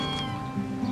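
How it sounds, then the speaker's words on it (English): A cat meows in a drawn-out, close, fairly loud call that fills about a second, with no talking over it. "a cat."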